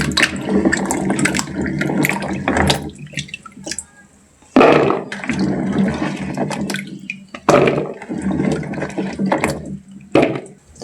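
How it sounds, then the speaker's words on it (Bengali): Potatoes rinsed under a running kitchen tap, splashing water in uneven bursts with brief pauses and clatter as the potatoes are handled, close and fairly loud. "প্রথমে আলুগুলো কিন্তু আমি ধুয়ে নেব।"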